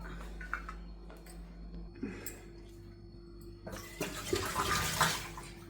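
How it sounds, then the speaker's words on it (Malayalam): Water running from a home tap, a steady hiss that swells louder and brighter during the last couple of seconds against a quiet indoor background. "വെള്ളം ഞാൻ ഡയറക്റ്റായിട്ട് പൈപ്പിൽ നിന്ന് എടുക്കുകയാണ് ചെയ്യുന്നത്."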